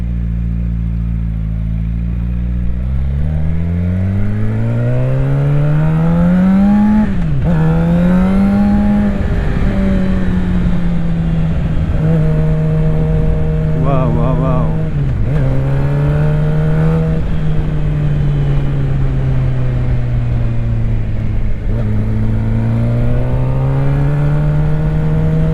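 A Suzuki GSX-R 750 motorcycle is ridden on a first ride, its engine loud and close, climbing through gears with rising revs, easing back, then surging again in a continuous whining, throaty drone.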